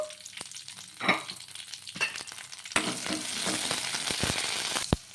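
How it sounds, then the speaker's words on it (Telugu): Green chillies fry in a little oil with a steady sizzle, broken by a few close clacks and scrapes of stirring, then a denser, louder crackle near the end. "ఇలా కొద్దిగా నూనె అనేది వేసుకొని మగ్గించుకుందాము"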